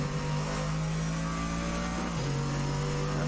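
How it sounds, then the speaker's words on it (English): A car engine drones steadily and close during a race, holding a constant pitch that drops slightly near the end. "Oh, I hear another engine. It's not mine."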